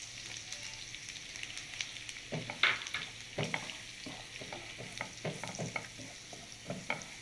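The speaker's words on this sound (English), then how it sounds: "You have to make sure that you are moving the spoon in a right direction and there is no lumps." A spoon stirs fine flour into butter and browned garlic in a pan, giving repeated soft scraping strokes over a gentle, quiet sizzle, no speech.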